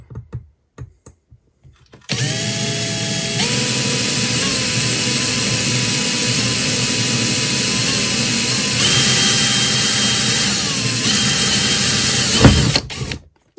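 A drill with a 1 mm Parkside HSS bit bores into metal, a few clicks first, then a loud steady motor whine that rises slightly in pitch partway through before cutting off, close and without talk.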